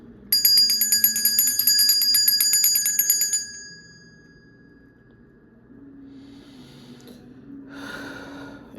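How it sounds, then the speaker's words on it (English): A single bell is struck once near the start, and its bright metallic ring holds steady for about three seconds before fading, with soft background rustle and movement afterward. "Okay, so I'm gonna ring the bell."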